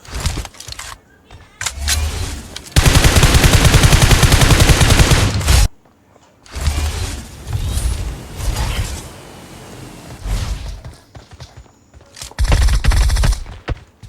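Bursts of rapid gunfire in PUBG, loud and dense, with a long sustained volley in the middle and shorter rattling bursts before and after.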